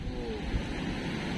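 Surf rolling onto a beach at high tide under a full moon, a steady low rumble of water with wind noise, close and continuous over the brief moment.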